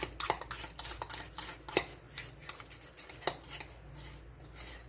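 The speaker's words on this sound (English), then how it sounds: "And we're going to mix all this up." Egg is being mixed into lasagna soup ingredients in a bowl: quiet, irregular clinks and scrapes of a utensil against the dish, with soft stirring between the sharper taps.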